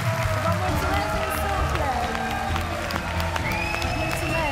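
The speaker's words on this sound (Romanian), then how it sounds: "Te aplaude în picioare" A studio audience on the TV game show Guess My Age gives a standing ovation, a dense, continuous wash of clapping and cheering that stays loud throughout, with voices talking and calling over it.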